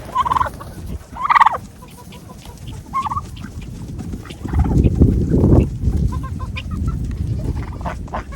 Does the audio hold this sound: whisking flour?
no